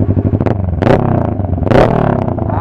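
A 650cc motorcycle engine sits close and loud, throbbing and clattering, with two sharp throttle blips that rise and fall quickly.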